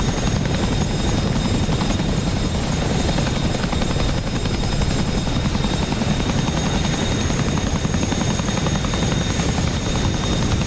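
Chinook helicopter in northeastern Afghanistan, a dense, loud, continuous rotor roar with rapid beating throb and a whining engine tone above it, close and steady throughout.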